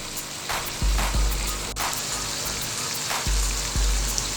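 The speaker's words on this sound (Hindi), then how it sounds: "अब ज़ीरा भून चुका है, फ्राई हो चुका है ज़ीरा अंदर।" Cumin seeds frying in hot oil for zeera rice pulao give a steady, close sizzle with a few soft low knocks from the pan.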